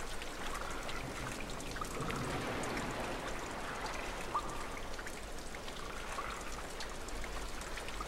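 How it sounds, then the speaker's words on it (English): Steady rushing, trickling water filling a flooded area in the video game Limbo, a continuous wash of pouring and dripping sound that stays fairly even and close throughout, with no talking. "Is the water still filling up?"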